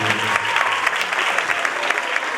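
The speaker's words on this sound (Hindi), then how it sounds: "जोरदार तालियां बजाएं" Loud, vigorous applause from a church congregation during a Christmas service, a thick unbroken roar of many clapping hands filling the space.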